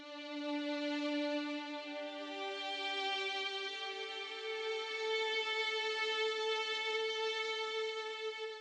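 A sustained string pad from a Native Instruments library, shaped with EQ and an RC20 lo-fi effect, plays a soft held chord with a slowly shifting note. It is quiet, smooth and continuous, with no percussion and no voices.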